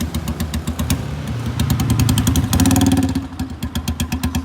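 Honda CG 125 motorcycle with a burst silencer, its engine close by, running with a rapid, knocking put-put that rises into a louder, harsher rev and then settles back to a choppy idle.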